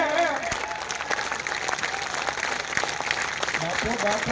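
An audience claps along in steady rhythm to a Gujarati devotional song for Meldi Mata, the applause bright and continuous beneath a singer's voice and music.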